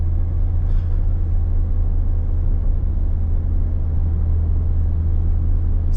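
Inside a Ford Sierra 2.0i Ghia on the move, the engine gives a constant low droning rumble with road noise, steady and unbroken throughout.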